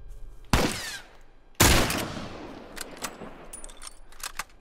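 Two loud, sharp gunshots ring out close by in The Last of Us, each trailing into a decaying echo, followed by softer clicks and small impacts.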